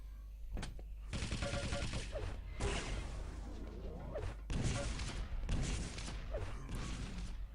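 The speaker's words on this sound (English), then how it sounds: "Going for the machine gun." Machine gun fire in the arena shooter Quake Live, several rapid bursts of gunfire and clanking weapon sounds in an ongoing match, fairly busy and continuous across the whole stretch.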